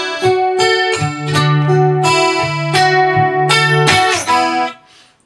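Acoustic guitar playing measure 47 of a song slowly, in a Vevo sessions style arrangement: separate plucked notes ring out in a steady, unhurried pattern, close and alone, then fade to silence.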